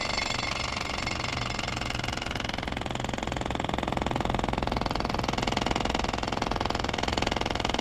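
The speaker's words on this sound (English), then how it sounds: "To cut through the hard road surface, you need a pneumatic drill." A pneumatic drill cutting through hard road surface hammers steadily and loudly at close range, its rapid pounding continuous throughout with an engine droning underneath.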